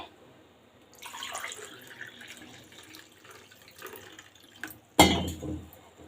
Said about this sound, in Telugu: ఇప్పుడు వాటర్ వేసుకుందాం మిగిలిన వాటర్